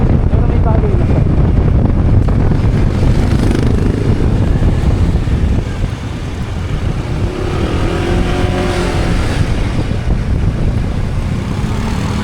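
A motorcycle, at first mistaken for an e-bike, rides past outdoors with a steady, loud engine drone and heavy wind rumble across the whole stretch, building and easing slightly partway through.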